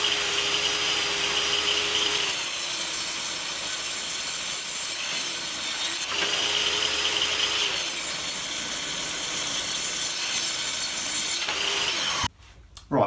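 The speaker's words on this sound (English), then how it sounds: "I'm just going to run them through the saw again just to bring them all to the same thickness" A table saw rips wooden frame boards down to a uniform 70mm thickness, a steady loud whining cut running continuously with slight shifts in pitch, then dropping out briefly near the end.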